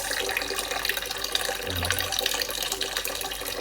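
Steady broadband rush of water running from a tap, continuous and fairly close, with a low rumble briefly swelling near the middle.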